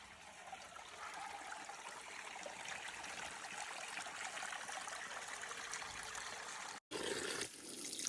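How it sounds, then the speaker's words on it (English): Clear spring water trickles steadily through a small stream, a close, continuous splashing babble with a brief cut near the end. "it's running clear water from every single level through here"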